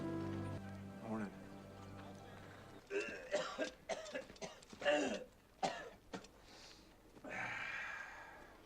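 A man in a movie scene coughs in a series of rough, hacking bursts and throat clears, with a low murmur underneath and a quiet background.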